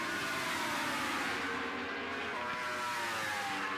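Racing motorcycles at the Pannonia Ring in Hungary roar past the start and finish line during a championship race, a continuous loud engine howl with shifting pitch as the bikes pass.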